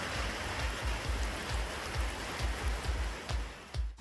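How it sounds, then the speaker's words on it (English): Steady rain falls outdoors at a house building site, a constant broadband hiss with a rhythmic low thumping underneath, fairly loud and unbroken, with no voices. "it's just raining constantly and things are far too wet to proceed with it"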